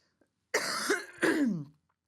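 Two harsh coughs in quick succession, close and loud, followed by silence.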